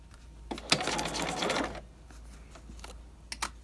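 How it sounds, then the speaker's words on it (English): A sewing machine runs close by for about a second, stitching the cuff latch of a raglan coat with a steady whirring buzz, then stops, leaving a few light handling clicks. "So now, let's put this under the machine and sew."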